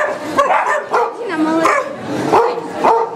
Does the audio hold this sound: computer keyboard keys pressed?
no